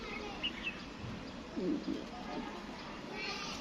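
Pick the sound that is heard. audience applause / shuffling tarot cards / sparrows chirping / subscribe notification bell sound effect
sparrows chirping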